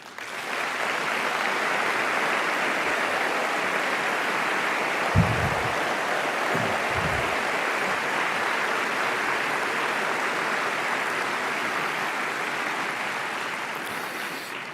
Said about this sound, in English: So may I please ask, as a thank you, an applause for yourself.